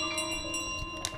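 A small handbell in Untitled Goose Game rings with a sustained metallic shimmer and a few soft jingling strikes, steady and close, with no talking over it.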